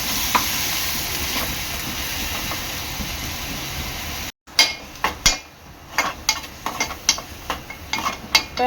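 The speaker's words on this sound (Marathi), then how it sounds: "यामध्ये मी अद्रक लसूण मिरची कोथिंबीर आणि आपलं खोबरं वाटून घेतलेलं ते वाटण आहे ना तळून घेणार आहे" A paste of ground ginger, garlic, green chili, coriander and coconut fries in a well-heated kadai, giving a steady close sizzle that breaks into sharp spatula scrapes and clinks as it is stirred.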